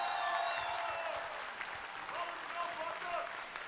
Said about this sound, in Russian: бурные аплодисменты, первый победитель.